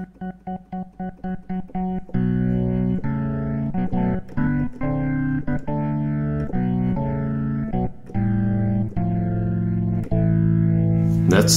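Distorted organ chords from a Ferrofish B4000+ clonewheel organ module on its crunch setting, with a gritty crunch, first as short staccato stabs, then sustained chords changing every second or so, loud and upfront.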